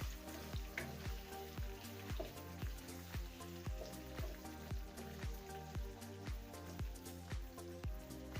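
Chopped onion frying in a pan over medium-high heat while it turns light brown, a steady close sizzle and crackle with regular rhythmic spatters running throughout, no voices.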